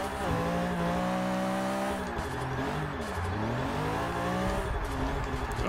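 A 1997 BMW E36 M3 drift build in Forza 6 revving hard, engine pitch rising and falling through gear changes with tire squeal, a continuous loud in-game racing roar.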